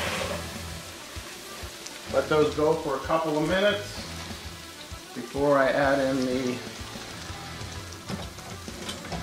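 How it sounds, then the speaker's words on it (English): Steady sizzling and crackling of apples frying in hot butter in a pan, with someone talking over it in bursts. "Starting to get hot, you can hear it sizzling."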